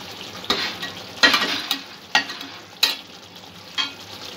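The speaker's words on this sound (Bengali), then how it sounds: "পাঁচ 7 মিনিট মাছটা দিয়ে আমি গ্রেভিটা ফুটিয়ে নেব।" Rohu fish gravy cooking in a pan, a soft bubbling sizzle broken by several sharp spoon-stirring clinks and scrapes at irregular intervals, close by, with no voices.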